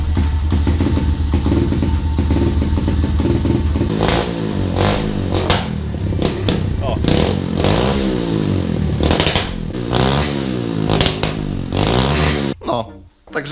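A motorcycle engine cranks, catches and is revved repeatedly in a workshop, loud and close, with sharp rising and falling throttle blips. The engine runs roughly between revs, then cuts out near the end.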